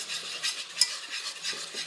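Flour, milk, vanilla and oil whisked cold in a bowl, a steady close scraping, swishing stir with one brighter clink of utensil against the bowl partway through.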